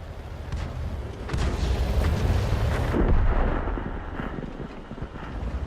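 Tank cannon fire in World of Tanks arrives as deep booming blasts with rumbling decay, loud and close, two heavy swells rolling over several seconds amid battle noise.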